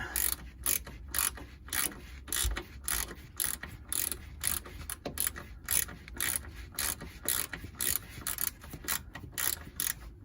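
Socket ratchet clicking in quick repeated bursts while tightening an anti-roll bar bush bolt on a Land Rover Freelander, close and steady with the pawl ticking throughout, no talk.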